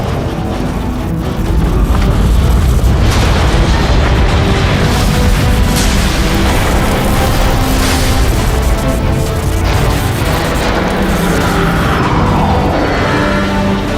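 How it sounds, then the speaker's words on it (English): A neutron gun powers up in Transformers: Fall of Cybertron, a loud, dense roar of rising mechanical energy with booming rumbles and grinding whines that swell steadily for over ten seconds with no talk. "The neutron gun is activating."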